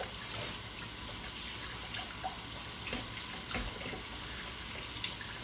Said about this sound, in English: let me wash my hands again before I touch my olive oil or anything else